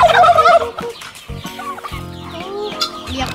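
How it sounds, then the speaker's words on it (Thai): Chickens clucking as they come when called: close, loud clucks and gobble-like calls in quick, uneven bursts. "มาแล้วไก่มาแล้วไก่สองตัวนะ"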